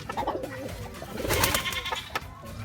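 Racing pigeons coo softly in a loft, with low, throaty rolling calls overlapping continuously at moderate distance.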